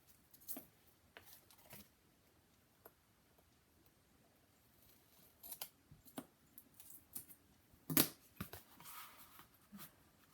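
Scissors snip through book cover material at the corners, cutting them off at an angle: a scattering of faint, short clicks and snips, with one sharper, louder cut near the end.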